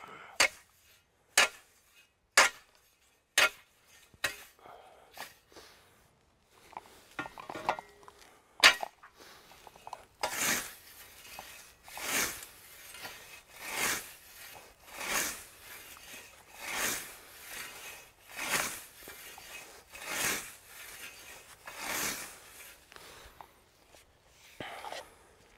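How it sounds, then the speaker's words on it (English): A scythe blade scrapes and clinks against a wall and stones while a Swedish garden meadow is being cut. Sharp isolated ticks come first, then a run of rhythmic swishing scrapes, close and fairly quiet. "when you hear the scratches when I'm touching the wall and the stones, it's only this part of the blade that touches"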